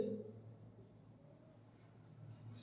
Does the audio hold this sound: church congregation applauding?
no